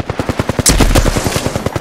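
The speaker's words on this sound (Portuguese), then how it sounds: "Tão atirando em mim." Rapid bursts of gunfire in Apex Legends, steady automatic shots with one heavier blast in the middle, loud and close.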